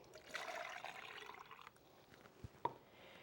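Fabric dye mixed with soda water is poured from a container into a small cup, a soft trickling liquid stream for about a second and a half, then quiet with a couple of faint clinks and drips.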